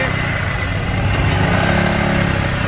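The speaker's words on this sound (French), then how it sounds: "Allez pars avec ton scooter, fais du bruit" A scooter engine runs loud and close, a continuous rough, rumbling motor drone that holds steady throughout with no voices over it.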